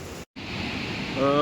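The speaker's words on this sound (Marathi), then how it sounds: "बघताय समुद्र पूर्ण खवळला आहे आणि पाऊस पण भरपूर पडतो आहे" A steady roar of rough, stormy sea surf and wind in heavy rain fills the clip, cut by a brief dropout, with a faint voice near the end.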